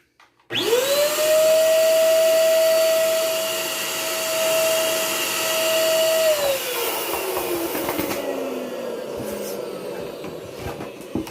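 A balloon stuffing machine inflates a double-neck bobo balloon with a loud, steady blower roar lasting about six seconds, then winds down into quieter handling noise.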